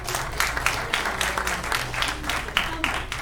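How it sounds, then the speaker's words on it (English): Audience at a 2022 Vermont US House candidates debate breaking into a short burst of applause, a dense patter of clapping that swells and fades while a voice talks over it. "I'd like to ask the audience to stop clapping between every question"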